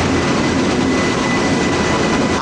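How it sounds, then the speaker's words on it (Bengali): The Balurghat Express pulls into a platform at Bandel Junction, a loud, continuous rumble of rolling wagons with faint rhythmic clatter, close by and unbroken, with no voices. "13063 বালুরঘাট এক্সপ্রেস ঢুকছে"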